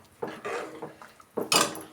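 A spoon scrapes and clanks against a metal cooking pot while hotel-style sambar is stirred to keep it from sticking, in irregular close strokes that finish with a brighter, louder scrape, with no voices.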